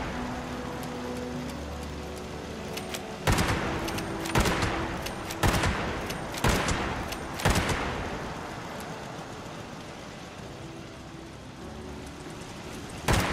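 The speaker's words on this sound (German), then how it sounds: "So, Kollegen, ihr könnt jetzt auch mal langsam schießen." Allied gunfire in Fallout 76: a run of sharp, loud shots cracks out in fairly regular succession through the middle of the stretch, over a steady background hiss and hum, then thins to a lone shot at the end.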